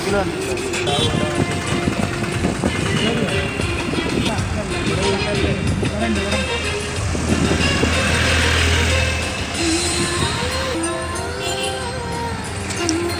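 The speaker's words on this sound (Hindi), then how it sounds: "देखिए कितना गाड़ी जा रहा है, ट्रैफिक बहुत जाम है" Road traffic in a jam beside a city road, with engines idling and rumbling, cars and motorbikes passing close by, and someone talking over the steady noise.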